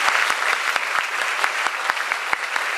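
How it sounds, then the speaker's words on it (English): Audience applause for a group of five speakers on stage at a university community dialogue, a steady wash of clapping with sharp individual claps standing out throughout, loud and close. "Let's have some applause for them."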